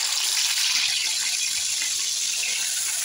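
Tap water running steadily into a sink while cut cauliflower and potatoes are rinsed, a continuous bright hissing gush, close and fairly loud, with no voices.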